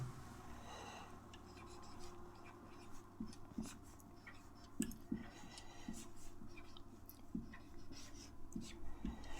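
Writing the value of x on a board during a class 10 maths lesson; soft, close scratching and tapping strokes come in short, irregular bursts against a low background hum.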